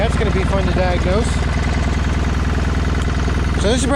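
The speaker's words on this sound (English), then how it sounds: "This one's definitely got a knock to it." A John Deere 318 lawn tractor engine runs with a knock, giving a steady, loud, close drone of rhythmic low pulses, with a voice talking over it at the start and again at the end.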